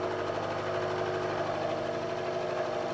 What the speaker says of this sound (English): So I'm switching to a roughing end mill. We're going to run that at 500 RPM here and see if we can't remove this material.